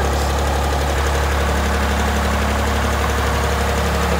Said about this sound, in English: overall it sounds like a pretty strong running little tractor